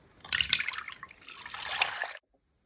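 Chilled cream of 33% fat being poured into a bowl, a close, steady liquid splash and trickle lasting about two seconds before stopping abruptly.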